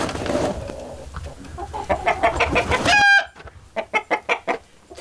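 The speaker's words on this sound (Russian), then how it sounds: "А вот там и на сарайчику курочки мои." Chickens cluck on a rural shed in a Belarusian village, a run of close, rhythmic clucks broken by a brief bright crow, followed by another burst of sharp clucking.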